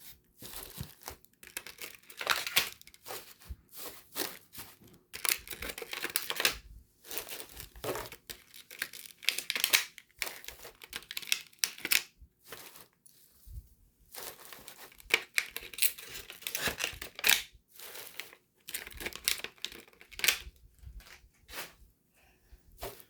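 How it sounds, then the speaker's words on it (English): Packaging crinkles and rustles while craft goodies are boxed up, in repeated bursts of crackling plastic and paper with brief quiet gaps, close and fairly loud throughout. "Sorry for the crinkle noise."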